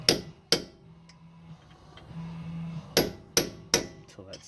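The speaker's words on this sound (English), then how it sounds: "Just get that chisel lined up and pound away on it" Hammer strikes driving a chisel into the axle nut on a 2015 Subaru Forester CV axle: two sharp metallic blows, a pause, then three more in quick succession, close and loud over quiet background.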